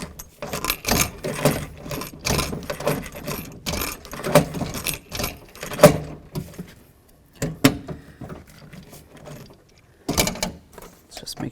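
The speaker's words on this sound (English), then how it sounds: "All right, that's a good sound. That means we're at the end of that rivet." Pop rivets are set by hand into the door panel of a 1988-2002 GMC Sierra 1500 pickup, fixing the window regulator: a string of sharp metallic clicks, snaps and handling clatter, close by and irregular, with short quiet gaps between bursts.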